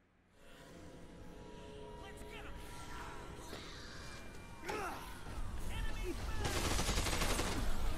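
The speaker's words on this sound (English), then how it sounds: "Stop shooting at me!" Gunfire in the video game Dead Rising 2: Case West: scattered shots and bursts within a busy game mix of clatter and effects, building louder toward the end, with a voice heard among them.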